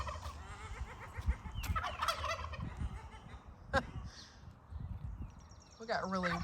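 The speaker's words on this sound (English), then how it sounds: "We got weird birds over there making noises." Odd bird calls, gobbling like turkeys or other fowl, sound from nearby outdoors in a garden, repeated irregularly under a person talking.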